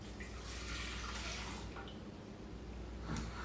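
Water and milk poured into a bread machine pan while making cinnamon raisin bread, a steady close splashing flow running throughout with a brief louder surge near the end, no talk.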